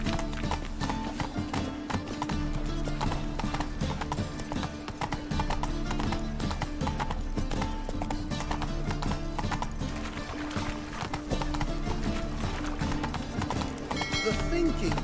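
Geralt's horse Roach trots with steady clip-clop hoofbeats in The Witcher 3: Wild Hunt, layered under continuous game music and a voice, with an occasional whinny.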